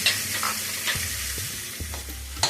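Radish pieces fry in a pan, a steady close sizzle broken by several scraping stirs of a spatula, with no talking.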